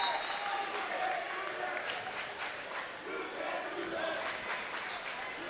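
A high school basketball crowd in a gym cheers and applauds at the Milford Scarlet Hawks versus Franklin game, a steady, dense roar of clapping and shouting that stays loud throughout.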